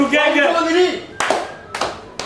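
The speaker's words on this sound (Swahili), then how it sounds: "Makofi tukaribishe Burukenge." A small group claps in short bursts to welcome Burukenge, with three quick rounds of clapping arriving right after a man's spoken call.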